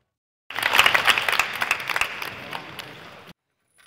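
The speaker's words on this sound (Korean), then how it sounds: "경쟁 관계지만 박수로 격려합니다" A crowd of firefighter candidates at a physical fitness test claps to encourage one another, a dense burst of applause that starts abruptly, peaks early, then gradually thins before stopping suddenly.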